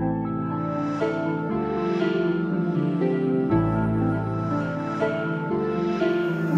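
The hip hop beat plays continuously with a steady bass line and layered melodic tones repeating in a looping pattern, no voices.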